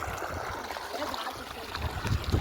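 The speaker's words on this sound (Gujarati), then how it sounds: "જો મિત્રો અહીં પાણી આમ જાય છે" Irrigation water pours along a channel into a cotton field, a soft, steady gurgling trickle heard faintly at close range with a low murmur underneath.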